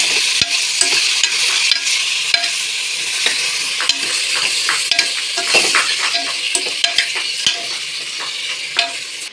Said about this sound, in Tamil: இந்த சிக்கன் எண்ணெயிலே நல்லா வதங்கிட்டோங்க